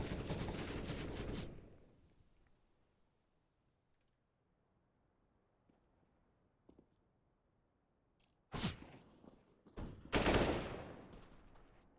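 Rifle and pistol gunfire during a competitive Counter-Strike match on the Dust 2 map: a loud volley of shots at the start, a long quiet stretch with faint clicks, then two more sharp bursts near the end.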